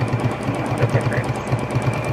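A JUKI sewing machine running steadily during free motion quilting, its needle stitching in a fast, even pulse that carries on without a break from start to end, loud and close.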